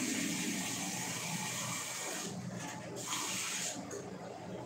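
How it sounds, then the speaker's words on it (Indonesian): Water poured steadily onto cyanide-process waste rock, a continuous broadband rush that shifts slightly as the flow changes, close and fairly loud with no talking. "setelah itu saya tambahkan air"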